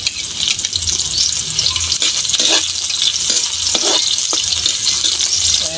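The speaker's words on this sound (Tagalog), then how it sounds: "Gisa na tayo. Bawang. Sabay na natin ang ating sibuyas." Garlic, onion and chili sautéing in a hot pan for a home-cooked shrimp paste dish, giving a loud, steady close sizzle with occasional utensil scrapes and taps and no talk.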